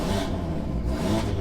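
A flashed BMW F80 M3 with a single-turbo engine and return fuel system, not yet driven, gets a short throttle blip: a brief rise in engine note over an idling rumble, with no talk.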